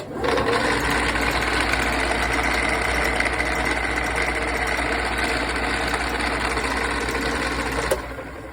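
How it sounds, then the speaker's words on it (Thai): A car engine runs at a steady idle during an alternator charging test, giving a continuous, even mechanical drone at close range with no talk over it. "แล้วผมเปิดเครื่องอีกทีนึง"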